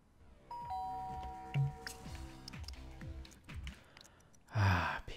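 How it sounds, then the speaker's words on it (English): A doorbell chimes in The Sims 2 console video game, a clear ding-dong ringing over soft game background music, followed near the end by a short louder sigh-like vocal. "Except the doorbell."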